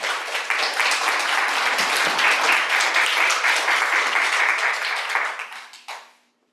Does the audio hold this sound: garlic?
no